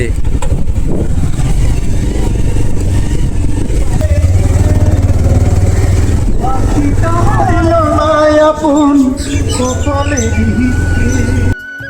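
A motorcycle engine runs with a loud, steady rumble throughout, with voices talking over it.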